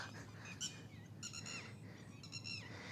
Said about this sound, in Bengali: তো প্রচুর পরিমাণে পাখি উড়ে গেল।